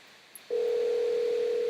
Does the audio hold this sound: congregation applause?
no